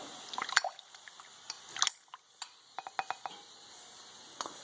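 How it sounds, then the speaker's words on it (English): Water drips and splashes unevenly as cleaned metal rings are rinsed under a stream, with scattered small clinks and wet patters at close range. "Okay, rinse these off here a little bit."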